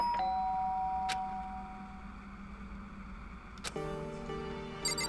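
Doorbell chime in the video game Danganronpa: a bright electronic ding rings out, followed a few seconds later by a second chime, over a low steady hum of game background music.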